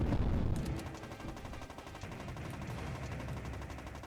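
Gunfire in the Sega Ages PS2 arcade shooter Borderline, with a dense, continuous rattle of rapid shots layered over game sound, heavy at the start and steady after.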